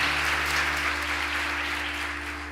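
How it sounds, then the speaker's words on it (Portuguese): Congregation applauding in a church, a steady dense wash of clapping that holds for the whole stretch at a moderate level, with a low hum underneath. "Aplauda Jesus"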